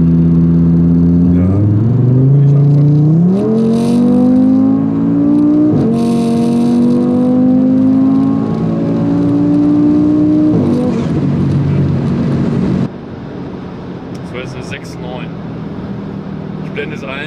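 Audi RS3 sedan tuned to 670 hp driving on the autobahn, its engine loud and close as it accelerates through rising revs with gear changes, then settles to a steadier cruise; people talk over the engine.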